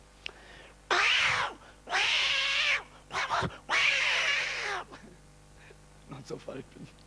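A voice imitates two cats fighting, with loud drawn-out yowls and caterwauls in three long bursts broken by short snarls and hisses, then fading into quieter sounds near the end.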